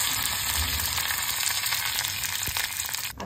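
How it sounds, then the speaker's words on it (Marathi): Urad dal, asafoetida and curry leaves sizzle and crackle in hot oil for a tempering poured over tomato chutney served with idli. The frying is close and continuous. "उडदाची डाळ जरा तडतडली की मग हिंग घालायचं आणि 10 ते 12 कढीपत्त्याची पानं घालायची."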